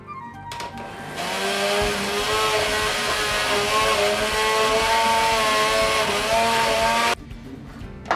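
A blender runs loud and steady for about six seconds, whirring as it purees chervil soup, then cuts off abruptly.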